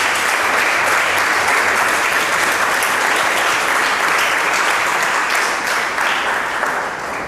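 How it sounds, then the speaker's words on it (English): A classroom of students claps for a classmate who has just answered a matrix question correctly. The applause is close, dense and steady, lasting about seven seconds without talk. "Please clap for her."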